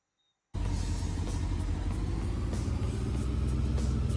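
Selena's Jeep engine in the video game EdgeRun, starting abruptly after brief silence and holding a steady, loud, low rumbling idle throughout.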